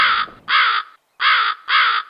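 A crow caws four times in quick succession, loud and close, each call a harsh, slightly drawn-out rasp with short gaps between, heard alone without any talk.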